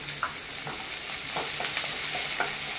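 Chopped onion frying in a pan while a stingray sukha is cooked, giving a steady broadband sizzle with a few soft stirring scrapes, close and continuous, with no talking.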